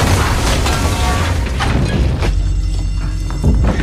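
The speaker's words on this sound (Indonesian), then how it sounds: "menyebabkan ledakan kecil terjadi di kamar ngising" A small improvised bomb goes off in a toilet room in an action film scene: a loud, heavy boom with a thudding rumble that fills the moment and then tails off.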